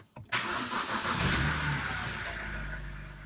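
A BMW E92 325i with the N52 inline-six fires up after a radiator install, with a brief starter crank, then a loud catch and flare of revs that settles into a steady, fading idle close by.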